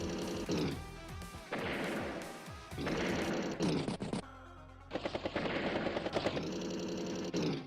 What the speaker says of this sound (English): Machine guns down the medium tank.